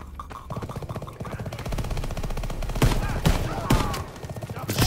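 Gunfire in the World War II shooter Call of Duty: WW2, rapid bursts of rifle and machine-gun fire with several sharp, loud single shots, heard close and intense while someone talks over it.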